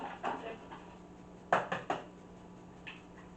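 Two eggs cracked against a bowl in a kitchen, sharp brief taps and clicks in small clusters, fairly close but quiet, with a faint steady hum underneath.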